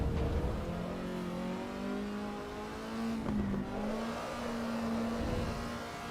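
A race car engine in Assetto Corsa EVO climbs through the revs steadily, a smooth rising whine with a quick shift dip partway, heard alone and fairly close.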